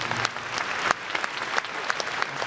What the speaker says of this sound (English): So I didn't ask you for an applause also for Susan, but I hope this will be including her